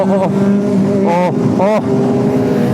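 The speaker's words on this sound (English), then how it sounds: "It's about to do a wheelie." A Honda Fireblade sport motorcycle revs hard at a bike meet as it pulls a wheelie, its loud engine note rising and falling in sharp surges close by, with excited voices mixed in.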